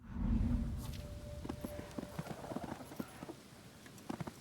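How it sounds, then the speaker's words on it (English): Horse hooves clip-clop at a walking pace, moderately close, with a low rumble at the start and game ambience underneath, in the video game Disciples: Liberation. "The sound of your horse's hooves disturbs an old soldier from a small farmhouse."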